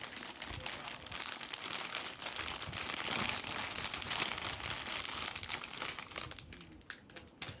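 Plastic wrapping around yarn cakes crinkles and crackles continuously up close for several seconds, then tapers off at the end.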